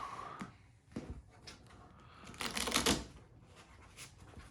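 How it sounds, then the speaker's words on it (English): A deck of cards for a pro wrestling promoter card game being shuffled by hand, with quiet riffling bursts and a louder flurry near the middle, close and faint, with no voices. "Get this all shuffled up here"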